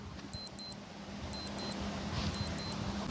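Three pairs of quick, high electronic beeps at a steady pace over faint background hiss, like a countdown timer.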